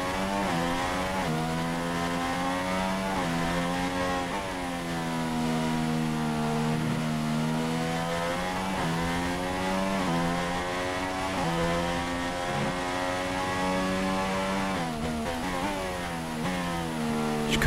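F1 2016 race car engine in the video game, revving high and shifting up through the gears at the Malaysian Grand Prix in Sepang, a continuous loud whine with pitch dropping at each shift.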